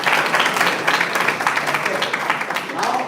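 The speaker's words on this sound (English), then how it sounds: "Give a big round of applause to him." Loud, sustained applause from a seminar audience at a data analytics talk, dense clapping for the whole stretch with voices mixed in beneath it.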